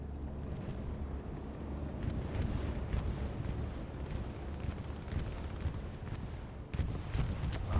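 Bombing-run explosions in the game Hell Let Loose, rumbling as a continuous low-frequency barrage of muffled blasts with scattered sharper cracks in the distance.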